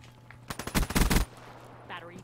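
Rapid automatic gunfire in Call of Duty: Black Ops 3, one burst of roughly a dozen loud, punchy shots lasting under a second, followed by quieter game ambience.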